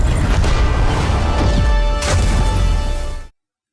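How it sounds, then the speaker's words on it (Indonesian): Loud explosion effect from an animated fight scene: a dense, roaring blast that rumbles steadily for about three seconds, then cuts off abruptly into silence. "menimbulkan ledakan luar biasa edun"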